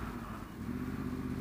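A Yamaha R1 motorcycle engine hums close and steady, its pitch rising slightly as the throttle opens, with a rhythmic low pulsing under continuous road and wind noise.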